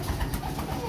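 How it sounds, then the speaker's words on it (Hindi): Pigeons in a cage cooing softly while eating grain, a low murmuring coo close by with light rustling around it. "आप देख लो किस तरह मतलब कबूतर अपना दाना खा रहे हैं।"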